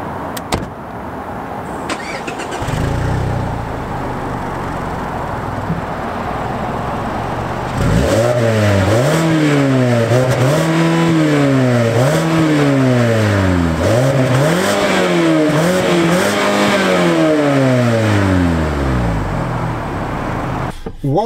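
A 2021 Mazda3 sedan engine idles, then from about eight seconds revs climb and drop repeatedly as it accelerates through the gears on the road, loud and steady throughout with no talking.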